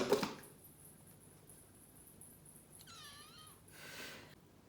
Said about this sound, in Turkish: Gördüğünüz gibi ilkinde başarısız oldu ve o üzgün miyavlamasını yaptı